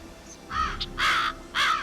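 Crows caw three times in quick succession, harsh and fairly close, each call a short rasping burst with brief gaps between, over quiet outdoor background.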